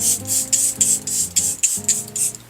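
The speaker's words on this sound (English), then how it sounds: "The setting spray that I'm going to use is the Charlotte Tilbury Airbrush Flawless Setting Spray" A series of short hissing sprays from a Charlotte Tilbury Airbrush Flawless setting spray, each a few quick pumps, repeated rhythmically close to the listener, with faint music underneath.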